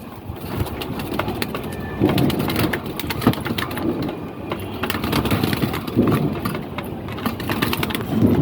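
Pigeons coo in low bursts amid a busy, rustling background full of clicks and flutters, loud and close throughout.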